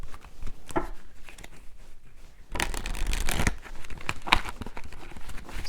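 A tarot card deck is shuffled and split into piles, giving soft papery riffling and flicking that turns louder and denser partway through, close up, with no talking.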